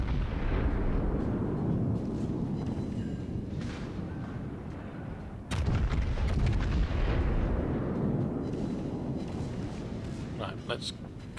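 Heavy naval guns of the Yamato battleship boom in World of Warships, a dense, continuous rumble of artillery with one sharp, loud blast midway and crackling impacts near the end.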